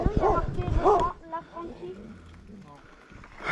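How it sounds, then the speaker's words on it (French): A dog on a mountain bike trail in the Céou valley gives a few close, loud barks and yips in the first second, then quieter whimpering sounds, with people talking nearby. "Il y a un chien, il a l'air commode."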